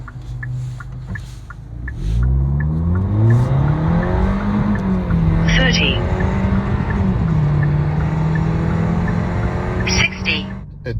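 A Kia K5 GT-Line 1.6T AWD with an NGT midpipe revs up from idle into a loud, rising engine note that holds and wavers at high RPM, then drops back, with a brief hiss near the end.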